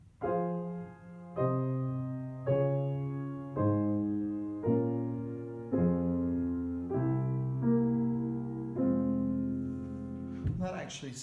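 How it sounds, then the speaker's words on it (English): Piano chord progression in a minor key with a diatonic dominant harmony, eight sustained block chords struck one after another at an even pace, each ringing and decaying, played alone with no talking. "What about in minor with a diatonic dominant harmony?"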